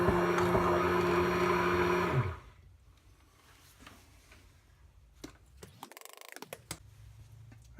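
A blender motor runs loud and steady with a harmonic whine while vegetable oil is dribbled in for a French dressing, then cuts off, leaving a few faint clicks and taps.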